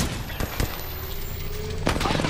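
Rapid bursts of automatic gunfire from an Apex Legends firefight, sharp close cracks clustered at the start and again near the end over a steady game background.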